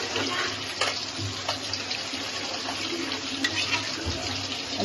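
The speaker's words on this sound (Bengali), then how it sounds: "এখন আমরা একটু জল দিয়ে দিই।" Water runs into a pan of sweet potato curry, a steady close splashing pour with a few brief clinks, holding at an even level throughout without speech.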